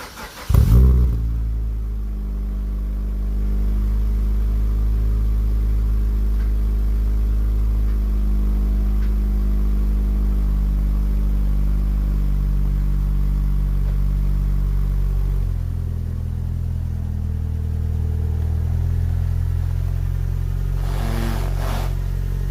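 A turbocharged Suzuki Swift ZC31S with a TM-square turbo kit cold starting: a short cranking burst catches into a loud, steady, deep idle that stays close and even and dips slightly later on.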